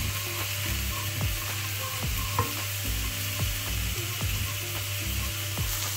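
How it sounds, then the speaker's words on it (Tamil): Chili flakes and spring onions sizzle steadily in a hot pan, with a constant crackling hiss and repeated clinks of a spoon stirring against the metal. "இதில் கொஞ்சம் சில்லி ஃப்ளேக்ஸ் அப்புறம் ஸ்ப்ரிங் ஆனியன்ஸ் இதை போட்டு நல்லா குக் பண்ண போகிறேன்."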